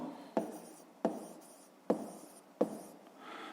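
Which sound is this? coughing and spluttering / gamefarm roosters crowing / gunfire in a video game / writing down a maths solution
writing down a maths solution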